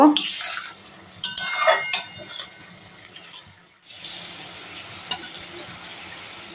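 Chilli chicken cooking in a pan after three sauces go in, with stirring scrapes and utensil clatter over a soft sizzle, busier at first and then settling into a quieter steady fry.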